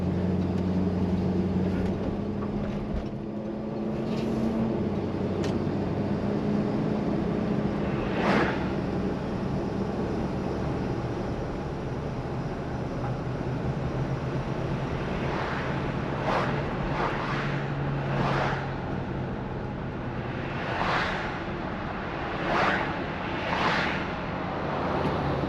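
A 1968 Plymouth Fury with a 383 V8 drives along on a test drive, its engine a steady low hum inside the cabin, with several brief louder bursts toward the end and no talk.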